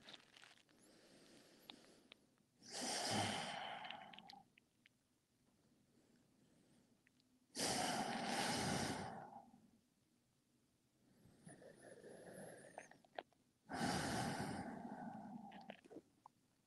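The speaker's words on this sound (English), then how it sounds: "breathing deep." Slow, deep breaths during a calm yin yoga practice, three long broadband inhale-exhale swells spaced several seconds apart, close and soft against a quiet room.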